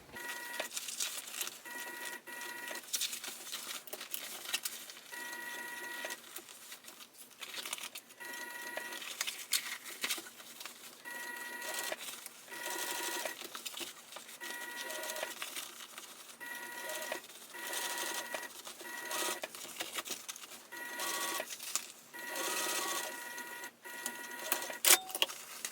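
A sewing machine runs top stitching along a bag seam, a quiet, rapid mechanical whir in repeated bursts with brief pauses between runs.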